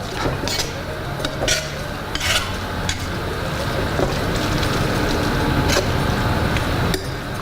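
A pot of simmering sauce for coating meatballs being stirred after the cinnamon and bay leaf are removed, with repeated sharp clinks of a utensil against the pot over a steady bubbling background.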